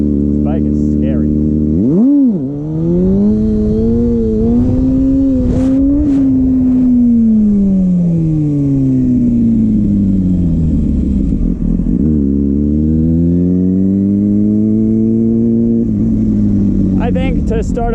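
A Kawasaki Ninja ZX6R motorcycle engine revs up and down close by in long, sweeping rises and falls, loud and continuous, with a brief dip before climbing again.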